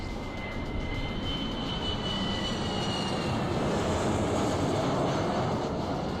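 A continuous roaring rush of an airplane engine in the video game Saints Row: The Third, with a thin high whine running over it, steady and loud the whole time.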